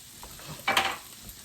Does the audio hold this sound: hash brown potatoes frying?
yes